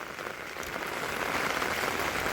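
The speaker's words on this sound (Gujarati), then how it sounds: "તો ફટાફટ વરસાદ ચાલુ થઈ ગયો અને અમારું સેટઅપ આવડે વીખી નાખ્યું" Heavy rain pours down at a campsite in Gujarat, a dense continuous hiss that builds slightly, close and loud with no voices.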